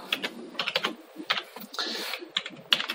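Someone types on a computer keyboard while configuring a Xiaomi Mi Router under OpenWRT, with uneven bursts of light, close key clicks and short pauses between strokes.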